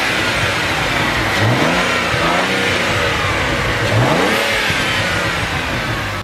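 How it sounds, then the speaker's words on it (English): A BMW N54 135i or 335i engine with a new chargepipe and tune revs loudly nearby, a few rising surges of pitch over a constant engine drone, with no voices. "let's get you guys some engine clips"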